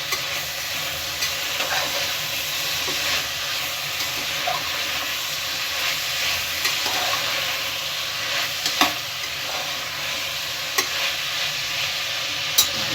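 Knol-khol and beans with turmeric fry in a hot pan as they are mixed, producing a steady, loud, hissing sizzle with occasional faint scrapes of the spoon.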